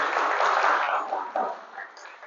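An office audience at an employee-of-the-month event applauds, a band-limited burst of clapping that swells early and then gradually tapers off.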